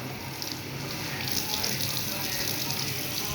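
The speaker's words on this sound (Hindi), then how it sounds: "थोड़ा पानी आ रहा है अभी तक" Water runs steadily from a tap, a close, continuous hissing splash that stays even throughout with no talk over it.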